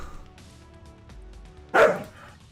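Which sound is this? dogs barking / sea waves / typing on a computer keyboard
dogs barking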